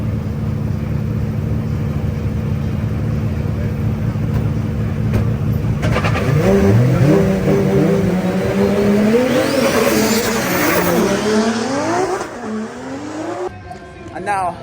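Drift cars at a Drift Masters night drifting event rev hard and skid, loud rising and falling engine wails over a steady crowd-and-engine roar, with tyre squeal and a sharp drop-off near the end.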